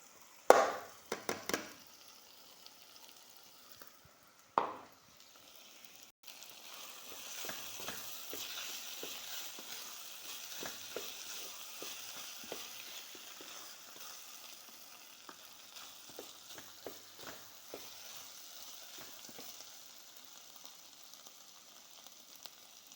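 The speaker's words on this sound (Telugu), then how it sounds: "ఇప్పుడు పప్పు వేస్తున్నా." Split lentils (dal) hit hot oil in a Telugu home kitchen while a capsicum curry is being made, a few sharp clatters and a stir, then a steady crackling sizzle that continues softly on its own.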